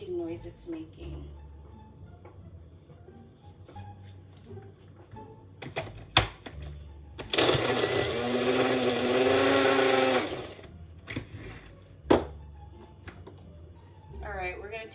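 A home blender grinds ice and milk into a drink in a loud burst lasting a few seconds, with clicks, knocks and quiet background sounds before and after.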